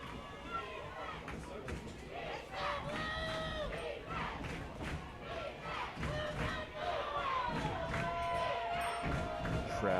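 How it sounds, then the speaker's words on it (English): Football crowd at a varsity high school game chanting "defense" in a loud, sustained roar of many voices, with an announcer talking over it. "Crowd is chanting defense."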